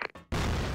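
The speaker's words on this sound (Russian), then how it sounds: "Граната пошла!" Grenade exploding in an online shooter, a brief quiet lead-in and then a sudden loud, broadband blast that holds to the end.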